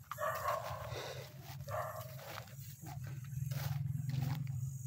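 Several dogs at a house bark and growl nearby in rough overlapping bursts, with a low rumbling undertone, at moderate loudness and with no speech.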